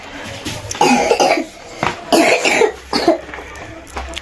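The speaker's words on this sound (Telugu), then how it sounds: "అదిగో పక్కన దగ్గుతున్నా" A person coughs several times in quick, harsh bursts, close and loud, with short pauses between.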